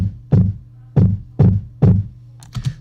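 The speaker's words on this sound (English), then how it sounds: "So now my kick just got a lot of bass behind it," Kick drum with heavily boosted low-end EQ in a mix, four deep thumping hits at an even steady pace, followed by lighter higher percussive ticks, loud and close with no talk.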